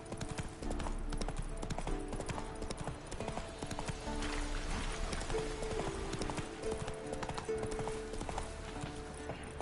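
Roach the horse gallops in The Witcher 3 with a rapid, steady clip-clop of hooves, close and continuous, with a brief whinny and faint game sounds underneath.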